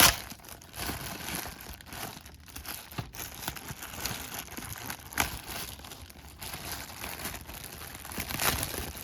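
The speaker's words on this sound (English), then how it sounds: "Let me crack this open like a Christmas gift." Packaging of a NASCAR action diecast car being torn and opened, a steady close crinkling and crumpling of card and plastic with brief tearing bursts throughout.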